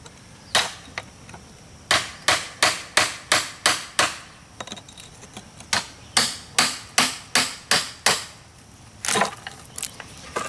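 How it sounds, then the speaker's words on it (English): A hammer rhythmically strikes a chisel to split stone for a sidewalk installation, sounding as sharp, ringing impacts in quick steady runs separated by short pauses, close and clear. "You could use a hammer or a chisel like that."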